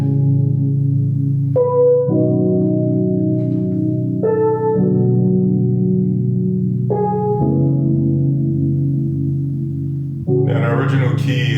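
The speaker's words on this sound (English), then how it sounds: "all of the samples are comprised of Rhodes samples." A Rhodes electric piano loop sample in E, sustained mellow chords changing every couple of seconds in a steady progression, ending on a brighter, busier strike.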